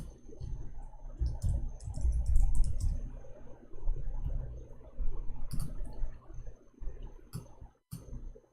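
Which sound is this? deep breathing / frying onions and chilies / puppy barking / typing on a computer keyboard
typing on a computer keyboard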